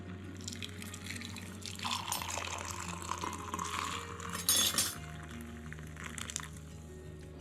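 Hot water pours into a coffee cup in a home kitchen, a steady trickling stream with a brief louder splash near the end, heard close up with no talking.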